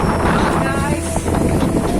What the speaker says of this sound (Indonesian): angin sangat kencang sekali nih di daerah Karawang, Tangerang